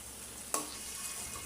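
Spice masala for beef liver and potato curry stir-fried in a pan, a steady soft sizzle throughout with one brief sharp scrape or clatter partway through.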